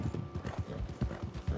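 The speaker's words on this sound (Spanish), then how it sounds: "solamente tengo este caballo. Este me vino en la última edición, un caballo pura sangre de carreras" A thoroughbred racehorse in the Red Dead Online video game trots with a steady, even clip-clop of hooves, close and clear, with no voices over it.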